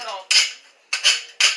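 A kitchen knife is pulled through a knife sharpener in three quick, bright scraping swipes, the second and third close together, each short and crisp with quiet gaps between.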